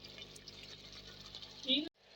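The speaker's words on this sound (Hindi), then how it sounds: "अब ये देखें ऑयल आ जाएगा तो मैं इसमें पानी डाल दूंगी।" Water poured from a jar into a pan of simmering egg kofta gravy, a soft continuous splashing rush that swells briefly before stopping abruptly, with a voice talking over it.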